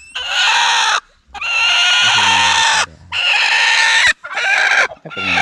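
A Rhode Island Red hen brooding on a clutch of eggs gives loud, close, drawn-out clucking and squawking calls in four bursts separated by short pauses, with no talk over them.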